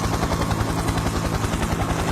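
Helicopter flying near Pagerungan island, with steady loud rotor chop pulsing in a fast, even rhythm and a continuous engine whine, heard alone without talk.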